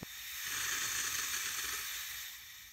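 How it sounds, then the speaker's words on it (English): Air blown through a hose into the fuel inlet of a cheap Chinese scooter carburetor, a close, steady hiss that rises and fades over a few seconds, with no talk. "I attached a hose to the fuel inlet on the carburetor and I'm blowing air into it."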